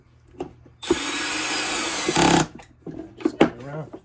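A power driver runs a screw into a Honda Element center console for about a second and a half in one steady whirring burst, close by, with clicks and handling noises before and after.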